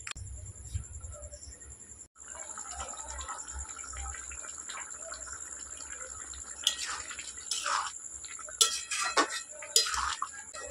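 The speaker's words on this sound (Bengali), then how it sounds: "এবার দেবো জল" Water pours into a pot of potato and pea ghugni cooked with goat fat, a faint splashing rush that builds in the later part over low background hum and light chirping.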